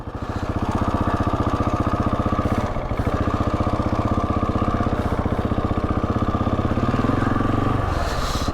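Trail motorcycle engine running steadily and loud throughout, a close, even mechanical drone with a fast regular firing pulse and slight shifts in pitch, no talking.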